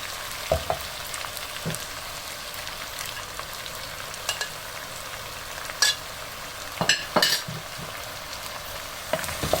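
Tomatoes go into a frying spice masala for aloo bhujia, giving a continuous close sizzle with several scraping stirs of a spoon against the pan near the end; no one speaks.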